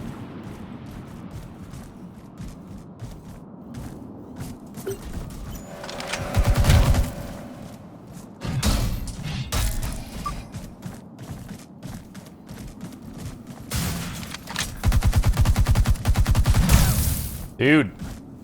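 Gunfire in the video game The Surge 2 comes as bursts of rapid automatic shots and heavy booms that repeat across the stretch, loud and close, with someone talking between and over them.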